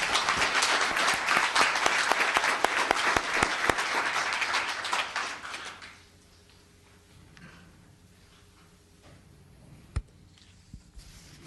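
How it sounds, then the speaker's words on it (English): Applause at a town council meeting, a full round of clapping from the gathered audience that fades out after about six seconds into a quiet room with a single knock later. "Please give one more round of applause for Morgan."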